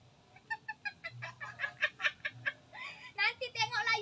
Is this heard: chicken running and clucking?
yes